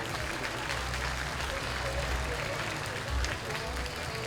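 A crowd at a stallion parade applauds for a pony, broad clapping and crowd noise heard at a distance with talk mixed in throughout.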